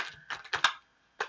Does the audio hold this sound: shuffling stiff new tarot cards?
yes